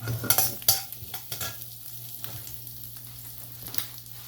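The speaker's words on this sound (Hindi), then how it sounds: "इसको फ्राई करते हैं" Four normal-size garlic cloves frying in a small amount of oil for a quick breakfast dish: a soft, steady sizzle under a low hum, with several sharp clinks and scrapes of stirring near the start.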